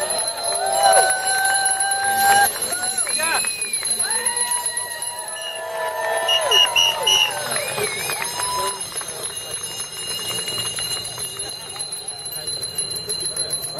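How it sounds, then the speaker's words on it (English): Many bicycle bells ring together at the Bells on Bloor bike rally at Queen's Park in Toronto, bright overlapping trills with a crowd chattering over them before the ringing thins out. "All right, everyone ring your bells."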